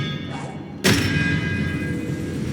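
Expelliarmus spell cast in Hogwarts Legacy, a sudden heavy magical impact burst that rings out and decays into a lingering shimmering hum, preceded by a brief faint whoosh.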